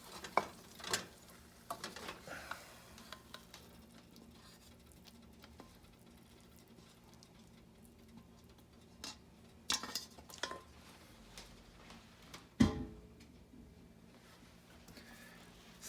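Rava (semolina) halwa scraped from the pan into a prepared tray: soft, intermittent scrapes and pats close by, with a sharper thump near the end and no talking.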